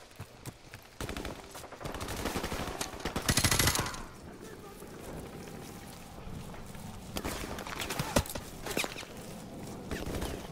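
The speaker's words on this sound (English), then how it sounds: "Shots fired." Call of Duty Modern Warfare gunfire, bursts of automatic shots and scattered single cracks, loudest in a sustained burst near the middle, with footsteps and faint voices in between.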